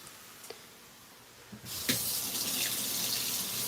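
Food being rinsed under a running kitchen tap while preparing healthy stuffed peppers, a steady near hiss of flowing water rising after a quiet start and continuing to the end.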